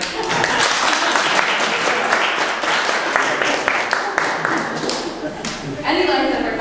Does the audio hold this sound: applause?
yes